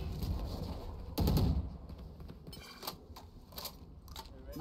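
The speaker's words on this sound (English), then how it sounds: "Why did you shoot in that smoke?" Gunfire in the tactical shooter Valorant on the map Haven, with a loud burst of shots near the start, then scattered lighter shots and clicks against game ambience while players talk.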